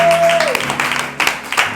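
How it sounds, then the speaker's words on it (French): A church congregation breaks into applause during a service, with a busy patter of hands that rises and falls after a held vocal tone fades out at the start. "Acclamons Jésus."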